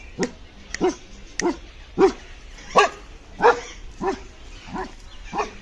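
A dog barks repeatedly in a steady series of about nine sharp, fairly close barks spaced roughly half a second apart, with no talking over them.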